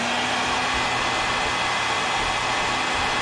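A heat gun blows steadily while setting paint on a jointed glide fishing bait, making a constant airy roar at moderate volume with nothing else heard.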